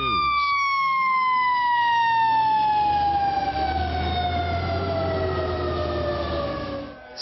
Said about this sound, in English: Screaming sirens,